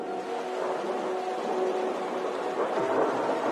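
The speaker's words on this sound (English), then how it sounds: "As a thunderstorm rages outside" A thunderstorm raging outside a house at night in a true-crime reenactment, a steady, loud wash of rain and rumbling storm noise with no distinct claps.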